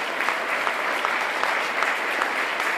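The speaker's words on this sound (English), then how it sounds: "Can we just all applaud Mr. Milstein?" Gala audience at an American Skin Association event applauding Mr. Milstein, a steady wash of dense clapping from a large room that holds at an even level throughout, with no voices over it.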